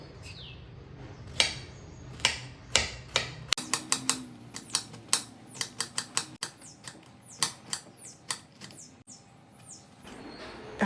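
Sharp knife strikes chopping ridge gourd into small pieces on a cutting board, a steady run of close, crisp taps that quicken into a dense rhythmic series, with no talking.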